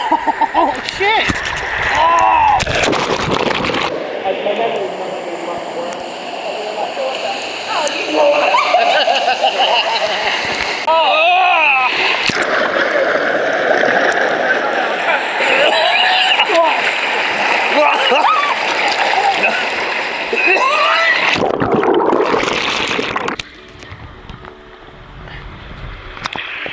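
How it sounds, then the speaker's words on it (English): Water splashes and rushes loudly and continuously while a rider is carried down the rapids ride of an indoor pool, with voices shouting and talking over the churning water. "Going down some more rapids."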